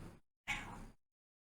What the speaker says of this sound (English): You can't meow at me.